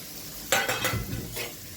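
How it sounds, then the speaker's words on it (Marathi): Onion drops into hot oil for a whole masoor dal, bursting into a sudden loud sizzle halfway through that keeps crackling steadily up close, with no voices. "तेल गरम झालं आहे त्यात आपण कांदा सोडूया"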